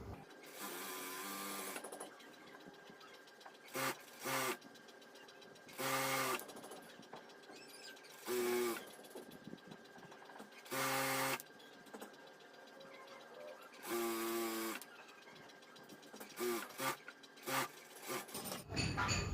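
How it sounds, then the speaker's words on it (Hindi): A sewing machine stitches a bra seam in several separate bursts of a few seconds each, with quieter pauses between runs, close and fairly loud. "यहाँ पे दोनों को इस तरह से बराबर मिला करके एक सिलाई हमें यहाँ पर कंप्लीट करना है"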